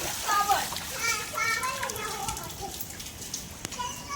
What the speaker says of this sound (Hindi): सुबह सुबह ही आज बारिश हो रही है।